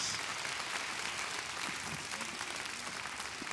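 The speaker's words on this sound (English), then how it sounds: "Can we give them a round of applause?" Steady applause from a church congregation fills the whole stretch, dense and even without breaks.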